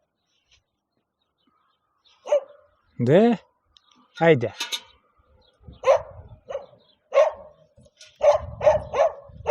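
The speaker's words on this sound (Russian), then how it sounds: "Не лай так сильно, никого нету." A dog in a village vegetable garden barks repeatedly, close by, in uneven bursts that grow quicker toward the end, while someone speaks briefly between the barks.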